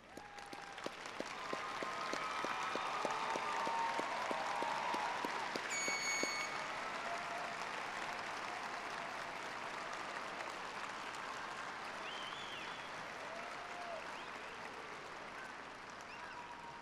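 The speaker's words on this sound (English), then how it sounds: "will all the following please rise and be recognized with a round of applause?" Sustained round of applause from a large audience at a university fall commencement ceremony, dense clapping that swells in the first seconds and holds steady, with faint crowd murmur underneath.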